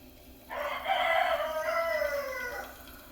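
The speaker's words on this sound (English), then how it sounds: "Got the roosters going crazy." A rooster crows once, loud and close, a long drawn-out call that rises and then trails off, with no talking.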